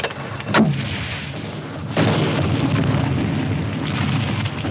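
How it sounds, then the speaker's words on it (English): Bursts of gunfire from a 1951 war film battle scene, with a loud blast near the start and another at two seconds, followed by a sustained dense rattle of firing and rumble. "And 1 machine gun's holding us back."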